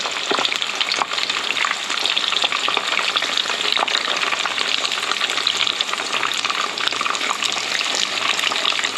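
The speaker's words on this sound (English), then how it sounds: "The longest part of this dish would be frying the tofu." Tofu sizzles and crackles in hot oil, a dense, steady frying hiss with occasional pops, close by.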